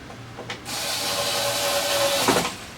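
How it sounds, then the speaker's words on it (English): A power driver whirs steadily for about two seconds, driving screws into the back bezel of a Samsung TV, preceded by a short tap and ending with a brief clatter, close and fairly loud. "Just got to drive some screws into it here"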